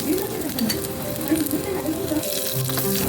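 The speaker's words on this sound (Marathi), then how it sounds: "हे सुद्धा तेलामध्येच भाजून घ्यायचे आहेत अगदी खमंग असे भाजले जाईल शेंगदाणे" Peanuts roast in hot oil for a spicy raw-mango thecha, giving a steady sizzling hiss with light stirring scrapes, close and moderately loud, with a faint voice in the background.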